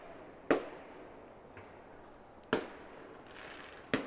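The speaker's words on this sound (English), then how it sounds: "dark enough to see the fireworks just over the tree line in right field" Distant fireworks beyond the tree line past right field at a baseball game, three sharp booms with a faint pop between them, each followed by a short rolling echo over quiet background.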